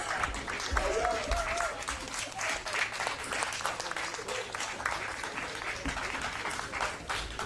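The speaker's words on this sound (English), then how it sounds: "Give them a round of applause." Audience applause at a Tongan language event in an Auckland museum, steady dense clapping from a crowd that runs for several seconds with faint voices mixed in.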